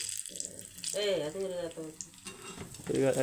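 Pazham pori banana fritters sizzle in hot oil in a home kitchen. A steady frying hiss runs beneath people talking close by.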